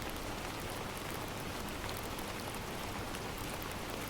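Soft, even patter of rain against a window, a continuous fine hiss of drops with no other sounds, faint and steady throughout.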